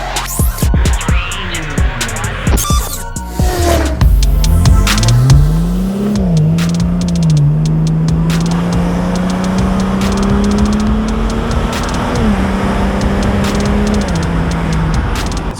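BMW 335i at stage 2 with an upgraded intercooler pulls hard after a few quick blips, the engine tone climbing through gears then settling into a loud steady drone, heard close from the cabin.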